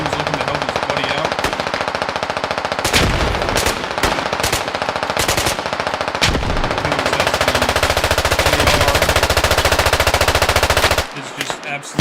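Video game automatic gunfire as a full magazine is dumped across the map during a competitive match: loud, rapid bursts of shots, stuttering at first, then one long sustained stream that cuts off abruptly near the end.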